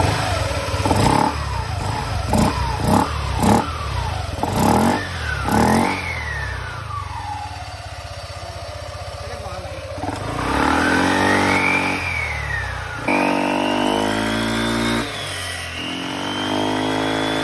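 Yamaha Aerox scooter engine, freshly serviced after a CVT cleaning, starts after several sharp mechanical knocks, then revs repeatedly, pitch climbing and falling through loud, close throttle blips that hold a higher drone near the end.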